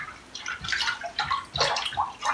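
Baking soda being stirred into water in a bowl sitting on rocks in a sink for a DIY glycolic peel, giving a series of close, soft splashing and swishing strokes.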